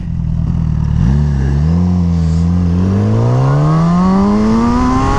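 A powerful motorcycle launches hard from a standstill up to 60 mph, its engine note climbing steadily in pitch as it accelerates, loud and close, with no speech.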